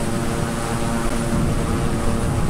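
Airplane engine drone in Microsoft Flight Simulator during an icing flight through clouds near the Bermuda Triangle, a loud, steady, unbroken roar with no pauses and no voices.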